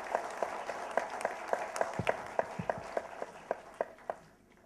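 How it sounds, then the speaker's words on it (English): Light applause from a small audience honoring performers, with a few distinct hand claps standing out above the patter; it rises and then thins out, ending in quiet. "I would request my audience to have a loud applause for them."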